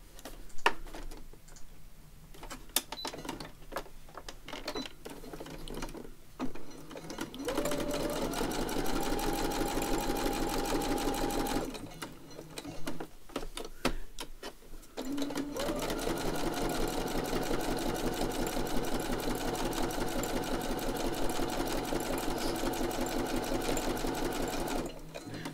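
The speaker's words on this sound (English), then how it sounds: "let's have a quick squiz around here with the sewing machine." A sewing machine stitching through paper book pages runs in steady bursts, with short pauses and clicks between runs, close by and fairly quiet.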